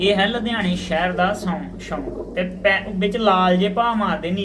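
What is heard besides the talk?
No everyday noise stands out behind the speech.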